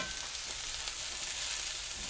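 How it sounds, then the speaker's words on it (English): Steady, quiet sizzling of peppers, onions and mushrooms frying without oil in a pan, a constant hiss with no talking. "All that moisture from the peppers and the onions and the mushrooms just sizzling."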